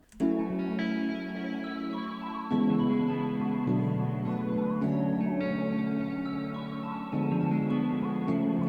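Tybetron bell synth from the Citrus plugin playing a short melody of sustained, shimmering tones over a steady low pad, bright bell harmonics changing every couple of seconds, with no voices present.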